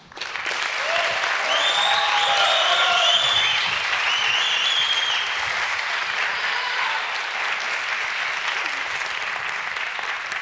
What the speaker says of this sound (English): I want you to give her a roar of approval and lots of applause